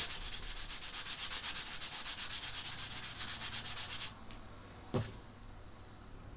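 A pencil is sharpened with a blade, wood shaved off in quick rhythmic rasping strokes, close and fairly quiet, stopping after about four seconds, followed by a single soft knock.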